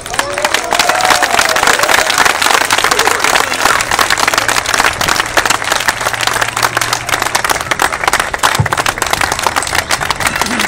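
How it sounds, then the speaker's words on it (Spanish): Dense, lively clapping from an audience at a political event honoring a legislator, continuous and close throughout with a few voices and shouts mixed into the crowd noise. "Un fuerte y merecido aplauso para nuestro legislador."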